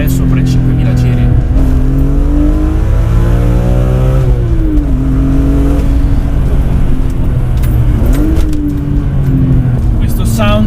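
A BMW M3 E46 engine revs hard with a metallic edge, climbing and falling in pitch through several loud sweeps up into the high rev range, with someone speaking over it.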